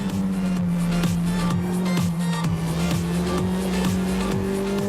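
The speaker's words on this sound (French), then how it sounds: "Là, on arrive sur un gros freinage." Renault Clio R3T rally race car heard from onboard as it approaches heavy braking, a loud steady engine drone with a rapid repeated mechanical chatter and rumble running underneath throughout.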